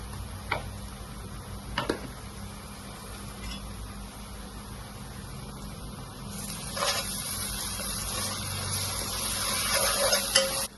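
Onions frying with ginger garlic paste in a pan for cauliflower chicken curry, a low, soft sizzle with occasional clicks and taps, swelling into brighter hissing spatter toward the end, no talking.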